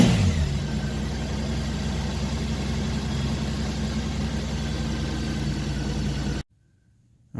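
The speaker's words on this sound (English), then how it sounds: "So now I'm just going to let the bike run and get nice and warm" A 2013 Honda F6B motorcycle engine idles steadily while warming up, a close, even, low rumble that holds for about six seconds and then cuts off abruptly into silence.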